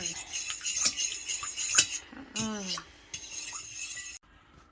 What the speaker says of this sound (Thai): ไข่กับน้ำแล้วก็เกลือ ตีให้เข้ากัน